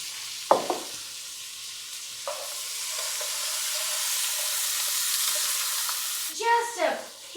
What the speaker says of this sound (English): And we're going to give that a stir.